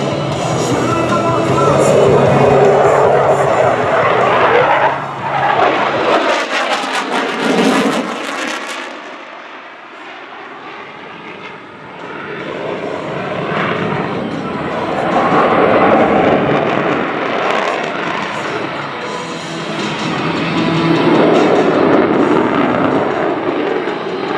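A US Navy F/A-18F Super Hornet fighter jet flies a pitch rate demonstration at an airshow, giving a loud, sustained jet roar that dips and sweeps briefly midway before swelling again.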